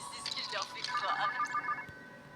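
A telephone rings in an animated Murder Drones episode, a short electronic ringtone trilling in repeated bursts beneath a busy, speech-heavy mix.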